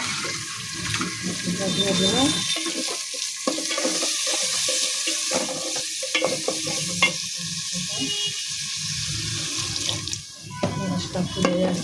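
Chopped tomatoes stirred into cooked chicken in a pan, a close, uneven sizzle with scraping spoon strokes and a watery splashing texture, and faint voices in the background.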